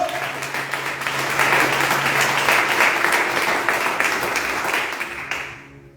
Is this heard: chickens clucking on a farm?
no